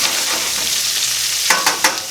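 Pork chops sear in a hot pan, a loud, close, steady sizzle, then three sharp scraping clatters near the end as they are moved or flipped.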